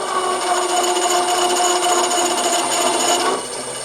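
Pull gear speed reducer running under load, its output spindle turning at about 150 RPM: a steady, loud mechanical whine with tonal gear hum and no breaks, alone without talk.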